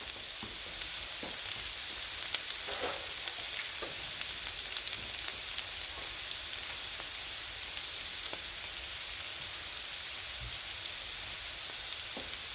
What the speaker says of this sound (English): we got the onion sauteing